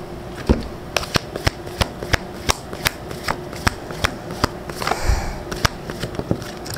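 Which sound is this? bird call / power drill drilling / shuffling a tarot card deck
shuffling a tarot card deck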